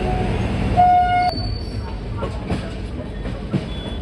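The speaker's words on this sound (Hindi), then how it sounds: "हमारी ट्रेन का जस्ट डिपार्चर हुआ है पुणे जंक्शन से" Pune Ajni AC Express pulling out of Pune Junction on Indian Railways, with a steady rumble of rolling stock and a brief sharp horn toot early on, under crowded platform ambience.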